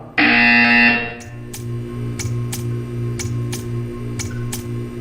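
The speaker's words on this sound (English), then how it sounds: "You will hear a buzzer." A loud electronic buzzer blares for about a second in Portal 2, then a steady run of evenly spaced ticking clicks continues over a low mechanical hum.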